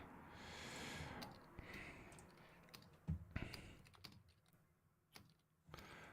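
Someone types on a computer keyboard, a quiet, uneven patter of keystrokes with occasional sharper clicks and soft breathing noises, faint and close, with no talk.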